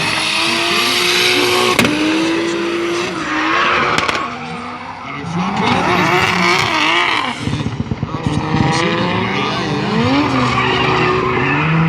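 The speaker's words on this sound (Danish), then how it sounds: "Dennis Hansen, han trækker bilen flot ud." Drift cars skid and squeal their tires while engines rev hard at a 2016 drifting competition. The loud, continuous tire noise and engine roar rise and fall throughout, with an excited commentator talking over it.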